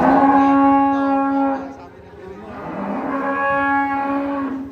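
Cattle being unloaded from a truck low in long, loud bellowing moos, one drawn-out call followed by a dip and then a second sustained moo, close by with faint background noise.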